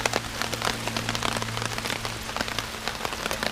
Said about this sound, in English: We are definitely getting pelted by rain